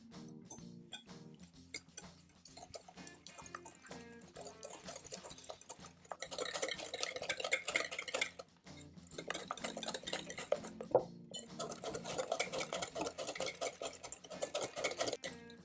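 Eggs and sugar being mixed for crème caramel custard, a fork or whisk clicking rapidly against a bowl in quick rhythmic strokes that grow louder and denser midway, with a short pause between bursts.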